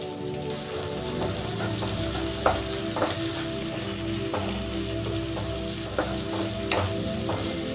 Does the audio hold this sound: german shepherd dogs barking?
no